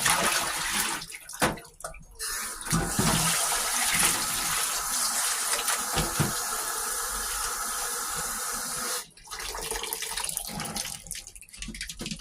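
Homemade butter rinsed under a running tap, a steady close splashing hiss of water that briefly cuts out and resumes, with no talking.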